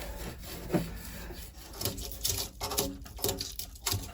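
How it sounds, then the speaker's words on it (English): A lock nut being tightened onto steel while building the shower on a narrowboat, heard as close scraping and rubbing with irregular clicks and taps. "I have to tighten the lock nut onto the steel, and the foam's in the way."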